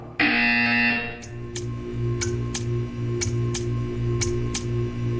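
Buzzer from the video game Portal 2 cuts in after a brief opening tone, then gives a steady series of sharp clicking ticks over a low droning hum, loud and close with no voices.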